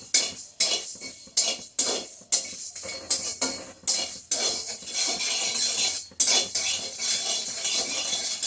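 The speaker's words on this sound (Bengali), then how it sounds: "তারপর আমি সবগুলি একসাথে একটু নাড়াচাড়া করে নামিয়ে নিচ্ছি" Spices, including fennel seeds, stirred together in a pan, with loud repeated scrapes and clanks of a metal spoon against the pan in an uneven rhythm, then a softer dry rattling stir.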